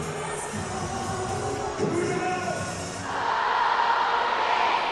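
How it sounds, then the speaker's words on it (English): A packed stadium crowd roars steadily at a Banana Ball game featuring the Party Animals in Baton Rouge, the dense cheering swelling louder after a few seconds and holding strong. "Listen to the crowd."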